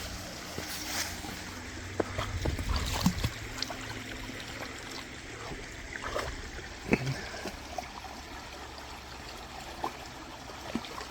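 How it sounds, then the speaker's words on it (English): A small babbling brook near campsites along the Kennebec River in Maine trickles and gurgles steadily, moderately close, with scattered footstep crunches and brush noises over the running water. "Little babbling brook."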